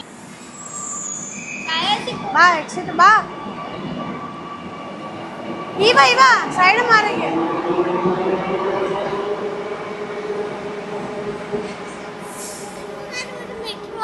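Kochi Metro train at the terminal platform, its rumble and wheel noise rising and fading with brief squeals around the middle, while people talk and call out over the station din.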